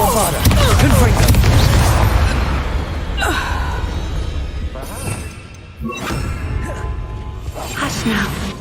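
Bombarda and Confringo spell blasts in the video game Hogwarts Legacy during a final battle, loud booming explosions with rumbling low-end roar and debris crackle, one big sustained blast followed by further bursts, with a voice speaking over the action.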